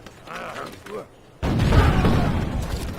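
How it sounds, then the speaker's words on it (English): A cannon in the Civilization V strategy game fires a bombardment at an enemy cannon, a sudden loud booming blast with a rumbling tail that cuts in after quieter clanking interface mechanisms and a voice. "go ahead and bombard their cannon"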